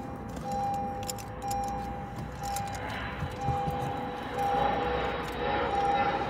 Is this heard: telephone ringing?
no